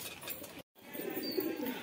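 Pet pigeons being fed torn bits of roti coo softly and low, a brief break splitting the soft murmur, with faint background noise and no talking.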